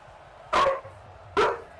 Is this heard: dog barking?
yes